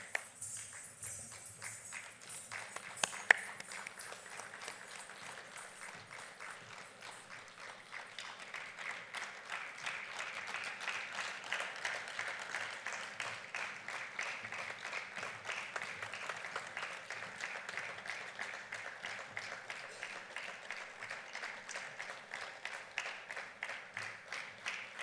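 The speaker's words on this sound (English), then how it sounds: "Let's give them a big round of applause." An audience applauds participants called onto a stage at a cultural evening of poetry, music, dance and art, with steady rhythmic clapping that is fairly faint and distant, swelling a little midway and holding through to the end.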